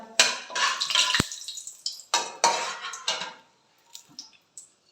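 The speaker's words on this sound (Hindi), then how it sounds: "सबसे पहले हम इसमें अपना जो है ये गरम मसाला डालेंगे, तेज करी पत्ता," Garam masala, bay leaves and curry leaves drop into a metal pot, with a series of close clinks, scrapes and rattles of utensils against the pot, the clatter dying down to a few soft taps.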